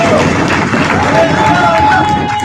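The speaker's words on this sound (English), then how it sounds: "can I hear a round of applause for the candidates of International" Audience applause for election debate candidates at a university student union event, a dense continuous wash of clapping mixed with crowd chatter and cheering across the whole moment.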